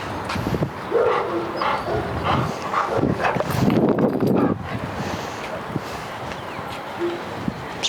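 A large, excitable reactive dog barks and yips in short bursts through the clip, close and loud, with wind noise buffeting the microphone and some whimpering between barks.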